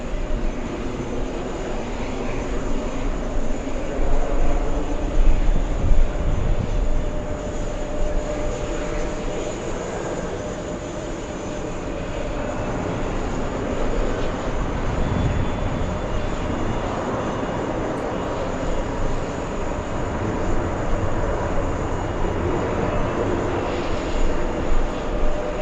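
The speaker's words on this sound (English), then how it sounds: "an arrival Caribbean landing on the closest runway" A Caribbean Airlines Boeing 737 lands on the nearest runway, its sustained jet roar rumbling across the airfield with swells and dips as it touches down and rolls out.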